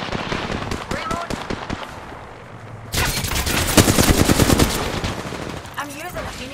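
Rapid automatic gunfire from a squad-based shooter video game, with bursts stopping and starting, then a dense sustained volley in the second half, loud and close, with a player's voice talking over the shooting.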